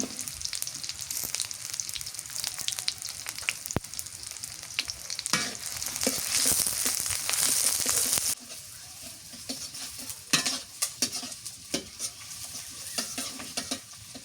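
Onion and green chili sizzle steadily in a hot pan, with repeated scraping and clinking strokes of a spatula stirring them; the frying hiss is close and continuous, easing slightly partway through while the stirring knocks keep coming.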